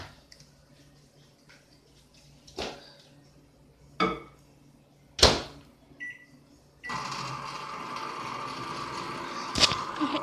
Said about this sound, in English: So I'm gonna put this and in the microwave.